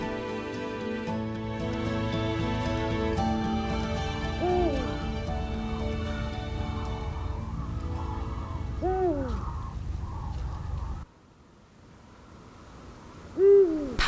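A Eurasian eagle-owl calls for a mate at night over the reeds of Suncheon Bay, its deep hoots sounding a few times at spaced intervals over a steady background drone and bed of music.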